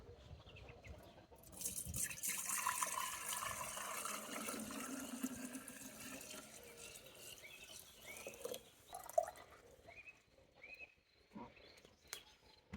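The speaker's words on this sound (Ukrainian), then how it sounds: "потім розливаємо по трьохлітрових банках" Homemade mint wine pours into three-litre glass jars as a steady, moderately loud liquid stream, with gurgles and splashes toward the end.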